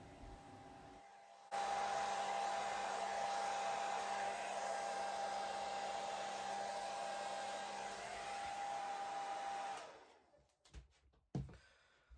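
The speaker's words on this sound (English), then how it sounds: "I've got quite a lot of paint still on that canvas, so I'm blowing that off the edge" A blower pushes leftover wet acrylic pour paint off the edge of a canvas, making a loud, steady whooshing drone for about eight seconds before cutting off, followed by a few light knocks.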